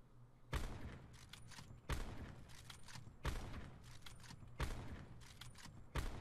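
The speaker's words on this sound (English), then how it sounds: "we're going to start off with the Paladin Sniper Rifle" Paladin HB50 sniper rifle in Call of Duty: Black Ops 4 fired five times at a wall, each shot a loud, sharp crack followed by bolt-cycling clatter, spaced evenly about a second and a half apart.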